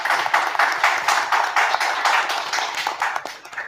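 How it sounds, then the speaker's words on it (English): A round of applause for panelists at a public-sector hangout event, a modest group clapping steadily with distinct individual claps audible, fairly close and unbroken by talk. "I would like to ask for a round of applause to all these panelists, Susanna, Miguel, and Mafalda"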